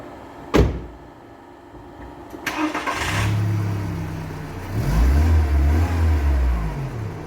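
A VW Golf MK4, just repaired, with a sharp door-like thump, then the engine cranking and catching. It settles into a steady idle and is revved twice near the microphone, with no voices.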